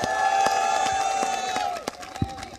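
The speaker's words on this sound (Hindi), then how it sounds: "प्लीज जोरदार तालियां गौतम गंभीर के लिए।" A studio audience applauds and cheers for a cricket player on an Indian television show about the T20 World Cup, a steady crowd roar with scattered claps under a sustained tone of music.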